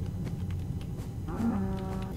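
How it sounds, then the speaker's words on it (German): A cow in the video game Minecraft gives one drawn-out, low moo that rises and falls, heard clearly over a steady background rumble. "Die Kuh macht Mu."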